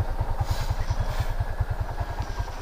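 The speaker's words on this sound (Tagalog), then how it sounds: "pwede siyang ito, parang kickstart, kumbaga sa motor, kickstart siya." TVS King Deluxe three-wheeler engine kickstarted and running, a steady low rhythmic thumping putter close by, with no talk.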